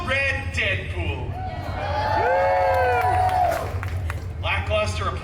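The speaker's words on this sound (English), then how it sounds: "Lackluster applause there, people." A theme park audience at a Deadpool stage show at Disney California Adventure gives scattered, lackluster applause and a few cheers, swelling briefly under loud amplified voices and music.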